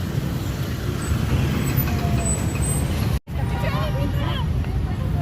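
Busy road traffic along Roxas Boulevard beside Luneta Park, a constant roadside rumble of passing vehicles with a brief dropout midway, while someone talks over it.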